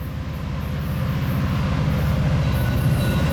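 A westbound CN ethanol freight train led by locomotive CN 8304 thunders past at close range through the Via station in Woodstock, a loud continuous low rumble with rapid rhythmic clacking of wheels over the rails.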